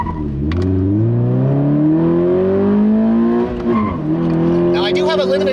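A 2017 Toyota 86 engine pulls hard through an acceleration run, its loud, close note climbing steadily in pitch, dipping briefly at a gear change, then rising again.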